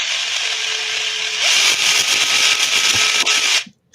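A converted RC car's electric motor and gearbox run unloaded on a 3S battery, a loud, high, drill-like whine that steps up in pitch partway through, rattles with gear noise, then cuts off abruptly at the end.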